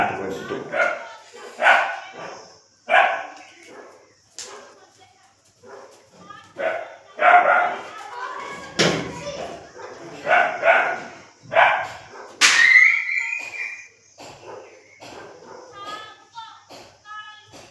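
Several dogs bark and yip outside in repeated sharp bursts, some close and loud and some farther off, while someone talks over them indoors.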